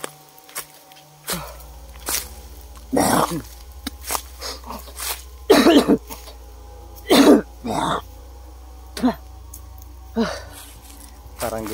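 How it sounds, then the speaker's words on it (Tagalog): Several short, sharp coughs or throat clears come in bursts over a steady low hum outdoors, with occasional quieter sounds between. "Parang delikado na to yung ubo natin."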